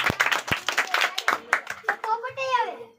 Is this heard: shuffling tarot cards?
no